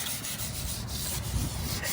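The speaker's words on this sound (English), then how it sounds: "Using Goo Gone as my liquid for my wet sanding" Rhythmic back-and-forth rubbing of sandpaper on a 16 ft jon boat hull, wet sanded using Goo Gone as the liquid, close and steady, with a soft wet scraping texture.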